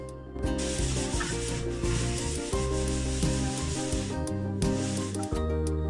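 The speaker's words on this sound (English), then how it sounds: "as I'm doing the sanding here" A smoothed wall is sanded by hand in steady back-and-forth rasping strokes, a continuous close scratching hiss with brief pauses, set against a tonal background hum and no talk.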